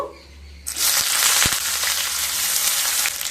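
Two large chopped onions drop into hot oil while cooking dal bhuna: after a quiet start, a loud sudden sizzle bursts up and holds as a dense, close, steady crackling hiss.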